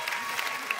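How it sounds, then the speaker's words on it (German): A studio audience at a televised ballroom dance competition applauds briefly, bright clapping with a few louder claps, and faint voices underneath. "Toller Applaus für euch!"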